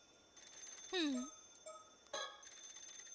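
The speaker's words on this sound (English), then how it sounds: "The phone's ringing." A phone rings in the mystery game PARANORMASIGHT, with a short warbling trill followed by two more rings, fairly faint against quiet background tones.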